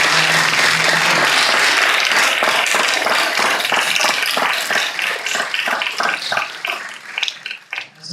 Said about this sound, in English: A big round of applause for Marianne Sievers.